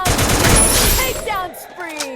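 Sniper fire in the Free Fire video game, a loud burst of gunfire up front that cuts off and gives way to fainter game sounds.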